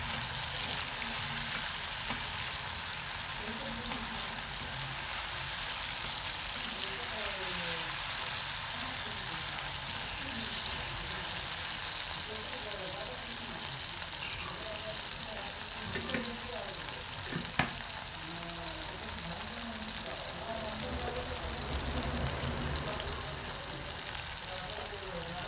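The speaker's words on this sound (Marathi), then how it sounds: "तेल गरम होताच त्यामध्ये एक मोठ्या आकाराचे बारीक चिरलेले टमाटे पण टाकायचे आहे." Finely chopped tomatoes fry in hot oil for a mutton dish, giving a steady, moderately quiet sizzle with soft stirring scrapes throughout and no talk.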